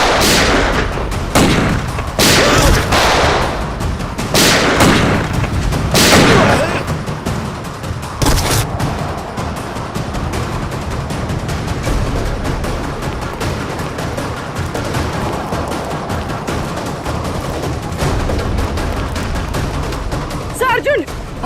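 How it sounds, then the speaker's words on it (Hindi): Gunfire in a CID crime drama on a mountain: loud, sharp shots crack in a rapid cluster at the start, then give way to a noisy, rumbling background for the rest of the scene. "तो गोलियां चल रही हैं।"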